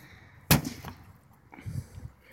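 A sledgehammer smashes into a motorised object with one sharp, loud crack like a gunshot, followed by a few duller, quieter knocks and rattles about a second later.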